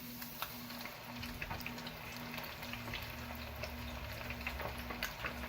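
Bluegill fish frying in oil in a pan, giving a steady close sizzle and crackle with occasional pops and a low hum underneath; no one speaks.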